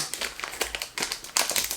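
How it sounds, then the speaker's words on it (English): A bag of dried hominy crinkles and rustles in quick, close bursts as scissors cut it open. "let me get some scissors and I'm gonna open that"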